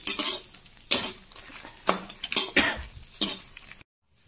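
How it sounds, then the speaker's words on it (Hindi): Peanuts and mixed dry nuts roast in a pan over low heat for poha chiwda, giving several loud bursts of rattling and scraping as they are stirred, then a short silence. "अब हमारे मेवे भुन रहे हैं"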